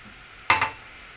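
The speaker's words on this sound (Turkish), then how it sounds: "Şimdi yağımız eridikten sonra irmeğimi ilave ettim." A brief scraping stir of dry semolina in melted butter, with a soft sizzle, two quick strokes close by, then quiet.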